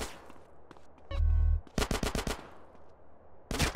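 Rapid bursts of weapon gunfire from GTA San Andreas, loud and close, with a dense volley of shots in the middle and another burst at the end, with no talking.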